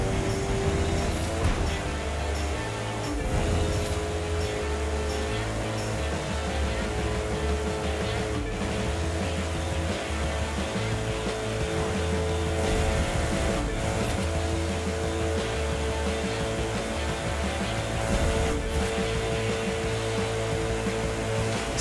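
A Koenigsegg Regera revs under hard acceleration in the racing video game The Crew 2, a steady, loud engine drone with layered harmonic tones that holds at a fairly constant level throughout.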